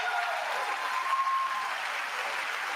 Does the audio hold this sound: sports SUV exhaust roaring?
no